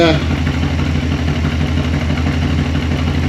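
A Holden HT V8, an older motor giving off a little smoke, runs loud and close with a steady, throbbing low rumble as it is revved.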